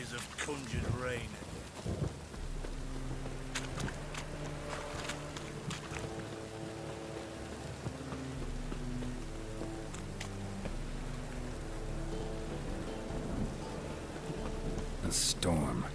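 A Witcher 3 thunderstorm rolls on as a steady curtain of rain, with low rumbling beneath and calm musical tones drifting over the downpour.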